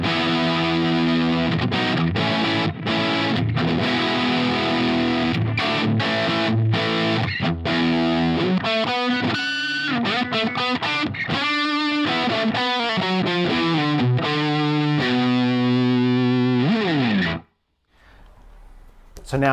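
Distorted electric guitar through a Line 6 Helix British 2204 amp model, played as loud chugging chords and fast riffing single-note runs for about seventeen seconds, then cutting out abruptly with a brief quiet tail.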